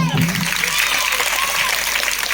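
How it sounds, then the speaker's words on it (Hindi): Applause from a gathering of rural women at a Teej celebration, a dense patter of clapping that holds steady throughout. "तो एक बार जोरदार तालियां।"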